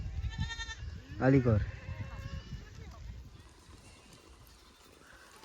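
A herd of goats with a herder: one loud, wavering bleat rises close by, with fainter bleats from the flock before and after it and a voice speaking in the background.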